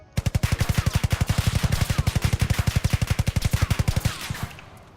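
An AK rifle in the DarkRP game Electric State fires one sustained fully automatic burst of about forty rapid, evenly spaced, loud close shots over four seconds, then a short fading echo. No talking.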